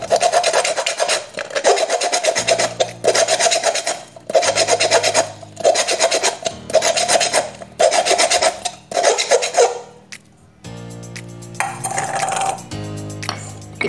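Cut edge of a recycled tin can being smoothed after trimming with tin snips, heard as loud, close rasping strokes in quick rhythmic bursts separated by short pauses, with no voices.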